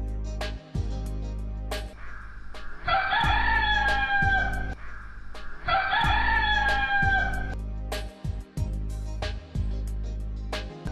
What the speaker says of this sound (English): And the hen cackled.